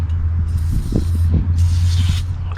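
Two bursts of hissing WD penetrating oil spray from an aerosol can on a Toyota Corolla transmission mount, one short and one longer, over a steady low engine hum.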